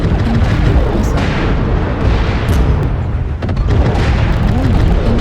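Missile explosions in the online combat game CrashWarrior Online boom heavily and continuously, with rumbling blasts layered close together and holding a loud, dense roar throughout.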